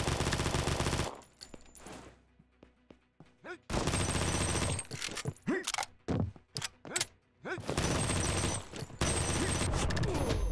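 An M1014 semi-automatic shotgun fires in a Call of Duty game, in long loud blasts and rapid volleys broken by quieter gaps with scattered clicks and clatter.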